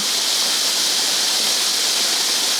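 A waterfall pours in a constant, dense hiss of falling water, steady and loud with no pauses or other sounds over it.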